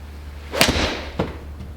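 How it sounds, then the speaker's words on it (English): A golf club strikes a ball on a normal draw shot with a Stack & Tilt swing, heard close as a swish and a sharp crack, then a second fainter impact about half a second later, with no speech. "I'm just going to hit a normal shot."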